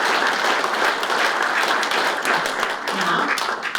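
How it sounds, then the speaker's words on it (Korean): Loud, dense applause from a large crowd at a year-end awards gathering, steady throughout with a brief voice near the end. "여러분 큰 박수 부탁드립니다"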